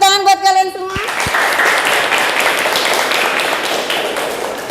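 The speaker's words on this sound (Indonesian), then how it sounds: "Tepuk tangan buat kalian semua." A classroom of students applauding together after their teacher greets them, dense steady clapping filling the room right after a brief spoken greeting and lasting to the end.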